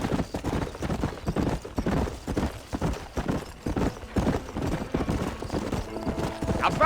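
Horse hooves clip-clop in a steady, rapid rhythm in the video game Red Dead Redemption, close and continuous, with ambient game sound beneath.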